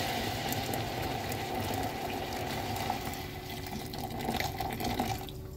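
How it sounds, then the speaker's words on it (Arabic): Boiling water pours into a clogged drain, a steady splashing gush with a gurgling rush that continues throughout and fades slightly at the end. "وهبدا اضيف الميه المغليه كوبايه"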